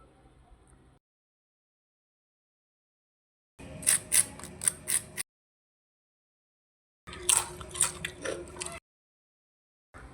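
Crunchy homemade potato french fries bitten and chewed close up in two separate bursts, each a run of sharp crisp crackles separated by silence.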